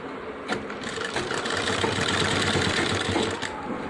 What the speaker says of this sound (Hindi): हम इसको एक चाप का सिलाई मार लेंगे, नीचे से बराबर कर लेंगे और इधर से एक चाप का सिलाई मार लेंगे